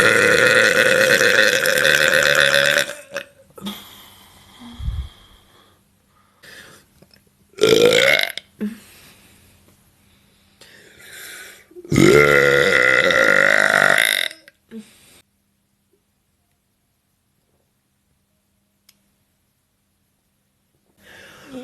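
Several loud, drawn-out burps come close to the microphone with quiet breathing and short gaps between them, followed by a long near-silent stretch.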